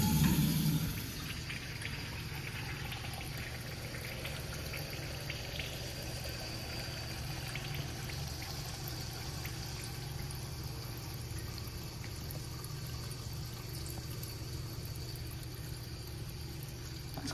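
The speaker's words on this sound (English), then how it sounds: "That's a long flush." A toilet in a men's restroom flushes long and steady, a continuous rushing of water that holds without a break for well over fifteen seconds, close and moderately loud.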